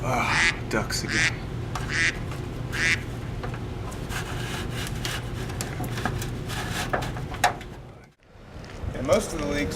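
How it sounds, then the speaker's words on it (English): Ducks quacking in short repeated bursts near a rain-soaked building during a downpour, over a steady background of rain and noise, with a brief dropout near the end. "Ducks again."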